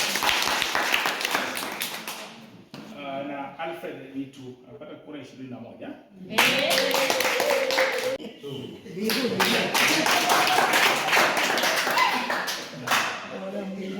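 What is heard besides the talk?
audience applause at vote count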